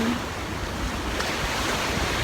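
Ocean surf rolls in a continuous low roar, waves washing on the shore at Discovery Bay, Hong Kong, with wind noise buffeting the microphone.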